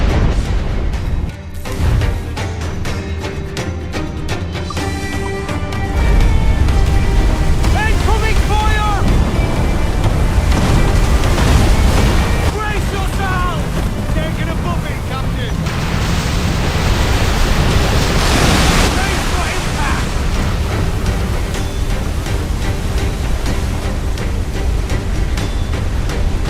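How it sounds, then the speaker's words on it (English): A waterspout roaring at sea in Assassin's Creed IV Black Flag, a loud, continuous rushing roar of wind and churning water around a sailing ship, with crew voices shouting over it. "Water spout, man! Stay wide!"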